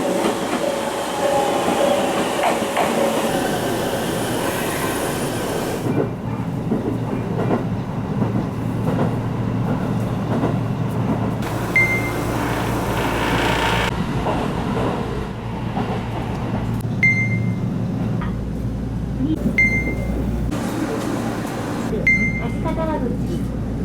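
A train rumbles steadily along the rails with rhythmic clatter from inside a carriage of a JR Central Minobu Line train running along the Tokiwa River, and short high chimes ring out now and then.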